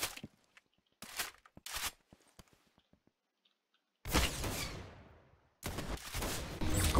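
Gunfire in the Roblox game Arsenal: several sharp bursts separated by gaps of quiet clicks, then two longer, louder rattling volleys, one trailing off in a fading tail.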